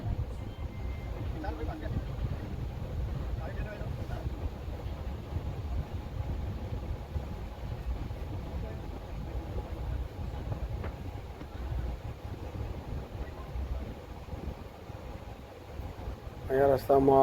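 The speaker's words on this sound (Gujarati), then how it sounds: "અહીંયા રસ્તામાં રેલવે ફાટક આવી ગયું છે, તમે જોઈ શકો છો રેલવે આવી રહી છે." A train rumbles past a railway level crossing on the road to Abu Road, a steady low, moderately loud roar lasting throughout, heard from a waiting vehicle.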